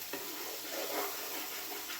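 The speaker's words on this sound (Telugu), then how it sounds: "కొద్దిగా ఫ్రై చేయొచ్చు." Prawns frying in a pan, a soft, steady hiss and sizzle that stays at an even level, quiet and unbroken, without speech.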